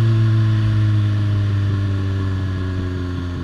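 A Kawasaki Z750 motorcycle rides through traffic, its engine giving a loud, steady low drone with a strong rumbling hum throughout the short stretch, with no talking.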